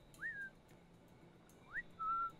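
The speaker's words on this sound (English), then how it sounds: "I like the little whistle that they do." Whistling from non-player characters in Assassin's Creed Black Flag: two-note rising and falling whistles, heard twice with a short held note after, clear and moderately close over faint game ambience.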